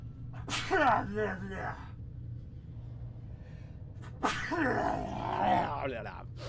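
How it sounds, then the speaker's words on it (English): Two loud, explosive sneezes a few seconds apart, each with a sharp intake and a strained vocal burst. "I'm going to sneeze."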